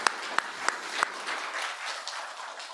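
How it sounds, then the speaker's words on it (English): A conference audience breaks into applause, opening with a few sharp, distinct claps that quickly blend into a softer, steady patter of clapping. "so applause for you first."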